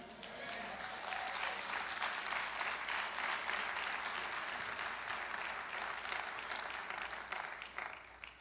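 A church congregation breaks into sustained applause during a sermon, many hands clapping together in an even, continuous wash that stays full throughout.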